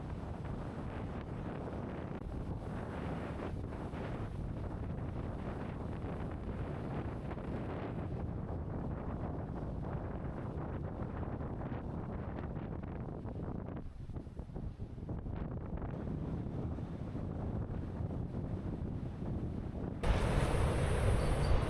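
Strong wind buffets the microphone at a beach, a continuous low roar with gusty rumbling that swells louder toward the end, and faint surf may sit underneath.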